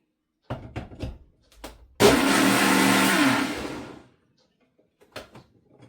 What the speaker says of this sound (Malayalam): ഇതൊന്ന് മിക്സിയിൽ അടിച്ചെടുക്കട്ടെ.